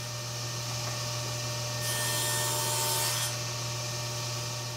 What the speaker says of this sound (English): The rabbet that I'm cutting now is for the back panel, and I'm doing that with 3 cuts using the thinner blade